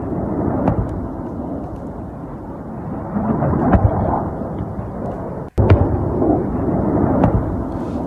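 Missiles intercepted over northern Israel, heard as a sustained low booming rumble with sharp cracks on top, loud and continuous apart from one abrupt cut in the middle, with no speech.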